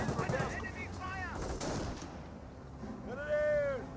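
Small-arms fire from Grenadiers rattles against a Bren carrier in the Company of Heroes strategy game, several bursts of shots popping under continuous commentary, with quieter battlefield noise between.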